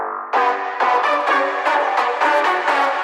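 Filtered drop leads and bass line from a track play together, a muffled, distorted synth chord pulsing in a rhythmic pattern, loud and dense with no voices.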